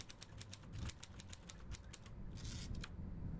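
Typewriter key clacks played as a save sound in the video game Penance, a rapid run of crisp, evenly spaced strikes followed by a short carriage-like rattle, quiet and alone.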